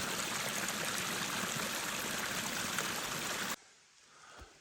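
A cold mountain spring stream in the high Carpathians rushes loud and close in a continuous broadband wash, then cuts off abruptly to a quiet outdoor background.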